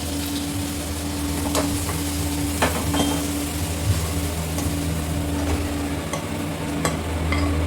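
Hot oil tempering sizzles steadily as it is poured into curd for a simple thayir pachadi, a continuous crackling hiss with a few sharper pops, close and alone without talk.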